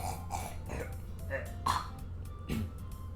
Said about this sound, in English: let me clear my throat for a second